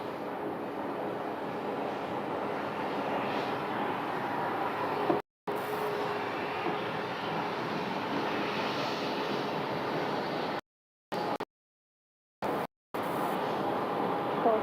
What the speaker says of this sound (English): The Boeing 767 freighter.